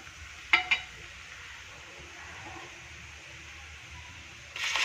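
Tomato paste goes into spices frying in a pan while making soya ball curry, giving a steady low sizzle with a couple of quick clinks early on and a louder burst of frying at the end.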